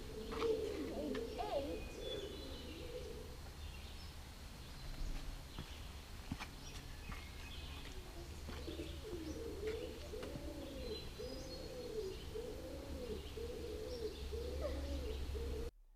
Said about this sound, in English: we found doves, residents of the cave, making their bird noises, and the sound echoed through Rock House and out into the gorge